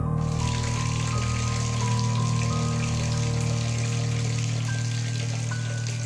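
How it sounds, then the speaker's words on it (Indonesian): Water runs steadily from a tap in a women's toilet at a factory at night, a continuous hiss with a low mechanical hum underneath throughout. "dia mendengar suara air keran dari dalam toilet wanita mengalir"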